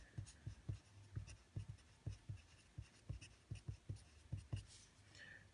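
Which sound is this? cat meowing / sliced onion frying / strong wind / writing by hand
writing by hand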